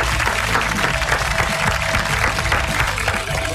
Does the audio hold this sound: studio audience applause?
yes